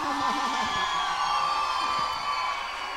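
A crowd cheers and shouts for the festival queen candidates during the parade at Brazil's Festa Nacional do Pinhão, a steady, dense roar of voices held from a distance for the full three seconds.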